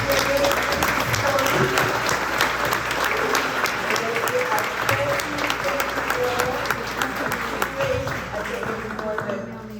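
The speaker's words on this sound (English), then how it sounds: "Let's give a round of applause for our candidate." An audience applauds a district attorney candidate at an Albany County event, sustained clapping from a crowd for about ten seconds with voices mixed in under it.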